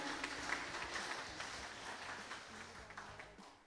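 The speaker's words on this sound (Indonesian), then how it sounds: "Berikan tepuk tangan yang meriah." Audience applause for the ten finalists of the North Lombok tourism ambassador pageant, a steady, fairly faint wash of clapping from a crowd that holds for several seconds before tapering off.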